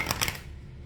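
A brief riffle of tarot cards being shuffled by hand, a quick papery flutter of a few snaps that fades out within a second, close and fairly quiet.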